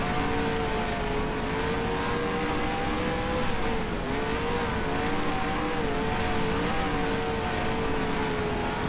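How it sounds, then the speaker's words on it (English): A wingless sprint car engine drones steadily in the NR2003 racing game at Brewerton Speedway, a loud sustained roar whose pitch wavers slightly as the car works through the laps, with no voices over it. "Should I start taking a nap while racing a wingless sprint car?"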